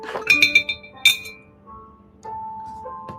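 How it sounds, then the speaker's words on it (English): Glass of water being set down on a table, giving several bright, close clinks in quick succession, then a sharp final clink followed by quiet room tone with faint soft sounds. "And then I will have my glass of water in front of me."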